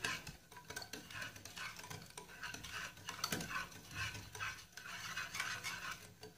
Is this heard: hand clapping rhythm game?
no